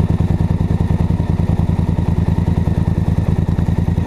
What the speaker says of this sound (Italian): È proprio una gran bella moto, l'Africa Twin.